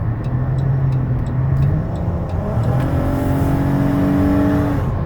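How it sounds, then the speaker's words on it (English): A 2020 Dodge Caravan SXT wheelchair-accessible van accelerates while merging onto a highway, its engine tone rising steadily through the gears as a loud, continuous interior hum with road noise and no talking. "Good acceleration, gets up to 70 miles an hour, no problems."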